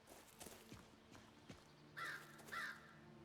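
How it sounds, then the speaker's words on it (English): Crow cawing in the video game Skyrim: two hoarse caws about half a second apart, heard over faint footsteps and a quiet ambient background. "Is that a crow? That's a big crow."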